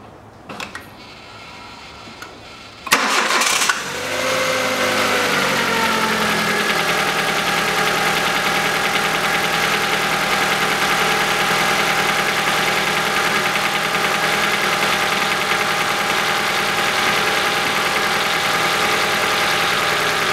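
A 2010 Kia Rio 1.4 engine, just fitted with a new timing belt and rollers, cranks briefly and catches, then settles into a steady, even idle that runs loud and close for the rest of the clip with no talking.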